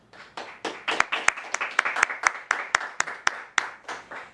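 An audience applauds for about four seconds in a Dominican talk-show studio, with many hands clapping together in a steady, fairly loud burst and sharp individual claps standing out.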